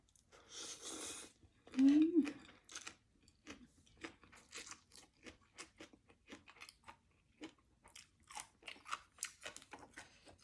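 Papaya salad with crispy pork tail being eaten up close: soft crunches and moist chewing come in irregular bursts, with a sharp crunch near the start and a brief vocal sound.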